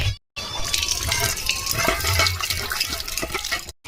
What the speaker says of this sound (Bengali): আজকে দেখো কীরকম স্পিডে জল পড়ছে